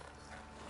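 Roach, a horse in The Witcher, walking with soft repeated hoof clip-clops under a faint mechanical clatter, quiet and brief with no talking.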